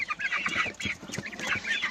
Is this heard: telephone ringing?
no